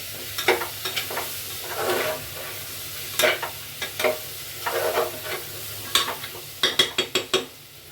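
Carrots and peas sautéing in a pan, stirred with a spoon in repeated scraping strokes over a soft sizzle, close up, ending in a quick run of sharp taps against the pan.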